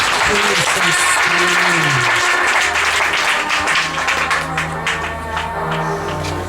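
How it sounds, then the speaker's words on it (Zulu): A church congregation applauds, loud continuous clapping filling the room while a voice speaks over it at the start. "Ngiyacela sibanikeze ihlombe kakhulu bazalwane."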